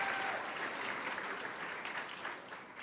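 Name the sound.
audience applause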